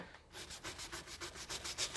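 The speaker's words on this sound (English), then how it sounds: "Let's go with the pot scrubber brush." A pot scrubber brush scrubs a tyre sidewall in a quick, even back-and-forth rhythm of about eight rasping strokes, close and fairly quiet, with no voices.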